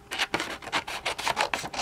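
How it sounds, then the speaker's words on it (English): Scissors cutting through vellum paper around a butterfly die-cut shape, a series of about eight short, crisp snips in a steady rhythm, close and fairly quiet with no talking. "now take your scissors, your snip"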